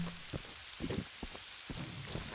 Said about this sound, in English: Don't know if you heard that, but that was big thunder.